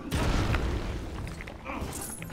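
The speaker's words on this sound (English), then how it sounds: "That's an explosion on the roof." A heavy booming blast on a roof in LEGO Marvel Super Heroes, with a rumbling, crackling tail, continuing as a dense low roar.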